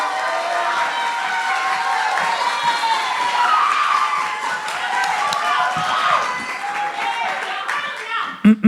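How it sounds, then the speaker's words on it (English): A poetry showcase audience claps, cheers and shouts in a lively round of applause. The noise rises and falls with many overlapping voices, and it fades near the end as a few close knocks sound. "Please put your hands together and give a mighty round of applause for Wilson."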